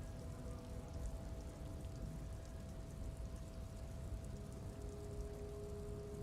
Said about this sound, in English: Ah, the sound of rain is so nice.